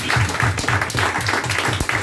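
A church congregation bursts into rhythmic clapping in praise of the Lord, a dense, steady, loud applause with a faint cheering voice underneath.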